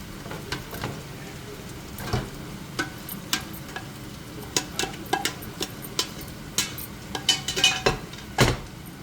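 Boiled eggplant bharta being mixed in a pan: irregular clinks, taps and scrapes of a utensil against metal over a soft background hiss, close by.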